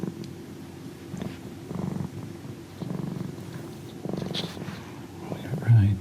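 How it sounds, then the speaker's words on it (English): A cat purrs right up against a close microphone in rhythmic rumbling waves, roughly once a second, with soft whispering and handling noise mixed in. "Maybe I can get some of his purrs here."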